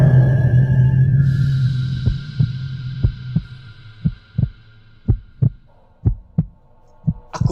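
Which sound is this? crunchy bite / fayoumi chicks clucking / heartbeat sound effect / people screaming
heartbeat sound effect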